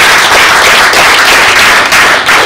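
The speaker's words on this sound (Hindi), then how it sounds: "एक बार उन सभी दानियों के लिए" An audience at a Hindi poetry and comedy stage event claps for donors, dense sustained applause, loud and close, continuing without a break and without talking over it.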